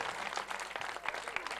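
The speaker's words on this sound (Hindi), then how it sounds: "तो वो जरा जोरदार तालियां बजाएंगे।" Applause from the audience at a devotional bhajan program at a temple in Ulhasnagar, a steady, fairly faint patter of many hands clapping for under two seconds with no talking.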